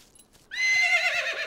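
A horse in a stable lets out a loud, close whinny that starts abruptly after a near-silent moment and trails off in a wavering, pitch-sliding neigh.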